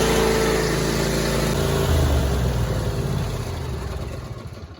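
A John Deere Z355R riding mower engine running at full throttle, a steady loud mechanical drone that shifts pitch midway and then fades toward the end, close by with no voices.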